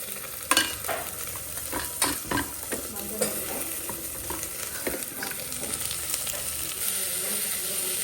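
Onion and poppy seeds frying in a pan, with a steady close sizzle under sharp clinks and scrapes of stirring that are busier early and settle into a constant hiss.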